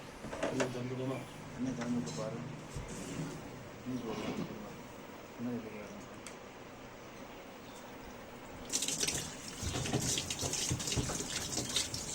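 Water runs and splashes in the tub of a Whirlpool 7 kg semi-automatic Ace washing machine being checked for leaks, with intermittent pouring and a louder gush near the end, and a voice speaking at times.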